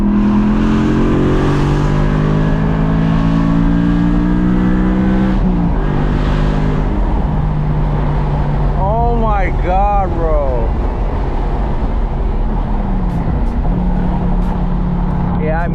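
BMW E92 M3 with a loud exhaust, driven on a canyon run with a DCT gearbox, roars steadily and rises and falls through downshifts, with crackles and a few pops near the end, while someone talks excitedly over it.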